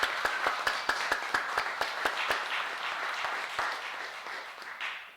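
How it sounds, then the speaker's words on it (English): A church congregation at a Mother's Day service gives a round of applause, one loud nearby clapper keeping a sharp regular beat over a softer crowd that gradually thins and fades. "Let's give her a round of applause"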